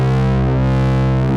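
A Dirtywave M8 synth tone shaped by the wrap limiter plays as a loud, steady, buzzing sustained note, rich in harmonics, for about a second and a half with no pauses.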